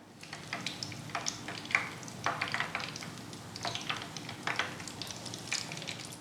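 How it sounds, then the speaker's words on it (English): A beer-battered onion ring frying in hot oil, an even close sizzle crackling throughout, with brief stirring clinks and pops rising above it. "we're just gonna put this inside our hot oil. We're going to let this cook for about 2 minutes till it starts browning"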